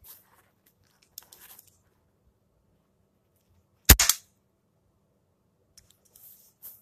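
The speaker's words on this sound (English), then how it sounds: "Got some cap guns." A toy cap gun fires a single loud, sharp crack midway, with a brief crackling tail, amid otherwise quiet surroundings with faint handling noises.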